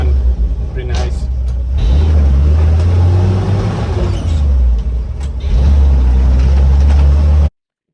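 A 1961 Toyota FJ40 restomod's engine rumbles loud and near, swelling twice with deep revs before settling back, while voices talk over it.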